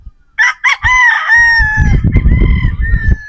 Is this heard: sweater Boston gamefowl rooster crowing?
yes